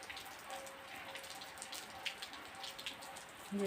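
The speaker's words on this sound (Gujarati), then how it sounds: "વરસાદ અતિ છે" Rain falls outside a home, dripping and pattering onto surfaces at fairly low level, with scattered individual drops and splashes over a soft continuous background and a faint tonal hum.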